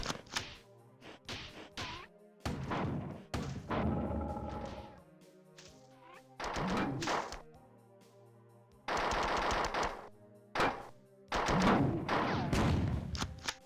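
Assault rifle fire in the 1994 Bungie video game Marathon: several loud bursts of rapid automatic shots, separated by short gaps and lingering echoes.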